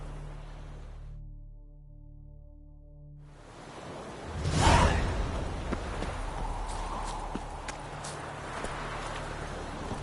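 A horse gallops in The Witcher video game, a rushing whoosh followed by steady hoofbeats at a run over game ambience, with no talking.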